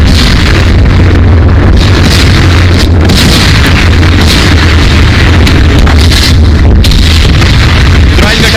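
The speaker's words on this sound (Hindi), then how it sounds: "देखिए गोलियां चलने लगी, सुनिए जरा।" Loud, continuous tank battle noise with dense bursts of gunfire and heavy booms, a steady engine-like drone of tanks underneath, and a voice faintly present.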